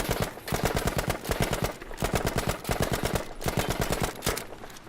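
Short bursts of tap-fired automatic gunfire on a Battlefield V shooting lane, loud and close, coming in rapid clusters of shots separated by brief pauses.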